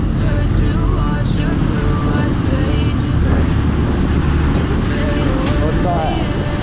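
Congested evening road traffic after rain near Phra Pok Klao Bridge, a loud continuous rumble of idling and slowly moving vehicles, with someone speaking over it.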